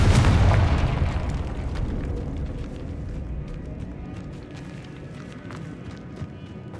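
Confringo blasting spell from the Hogwarts Legacy video game goes off as a loud, close boom that swells and fades into a rumbling tail with scattered crackles, no talk over it.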